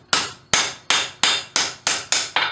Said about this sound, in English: I'm going to take a bit of a hammer. We're just going to work down this material a little bit to straighten that out.